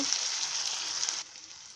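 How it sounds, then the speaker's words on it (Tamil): Tomato and onion sautéing in a pan for garlic kuzhambu: a close, fairly loud crackling sizzle that cuts off abruptly partway through. "இந்த தக்காளியும் வெங்காயம் இது எல்லாமே சேர்ந்து இதோட கொஞ்சம் வதங்கட்டும்"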